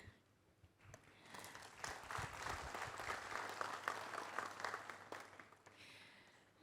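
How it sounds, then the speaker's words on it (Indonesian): Applause at a women's inspiration awards ceremony rises after a quiet start into a broad crowd clapping swell, then fades away toward the end; soft and somewhat distant. "Kita berikan sekali lagi tepuk tangan untuk Ibu Arifah Fauzi."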